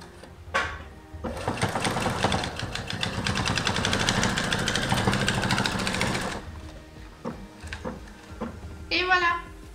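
A sewing machine runs a simple straight stitch along fabric seams for about five seconds, a fast steady mechanical whir close by, with brief speech before and after.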